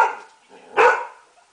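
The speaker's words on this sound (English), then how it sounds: "Do you bark at those Wolverines?" A pet dog in a home gives one sharp, loud bark after a faint short whine, then falls quiet.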